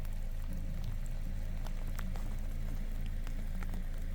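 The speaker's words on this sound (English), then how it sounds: "And it's starting to rain a little bit more." Rain falls steadily at Camp Creek near the Klamath River, a constant soft patter with scattered sharper drops over a low rumble, continuous and fairly faint with no talking.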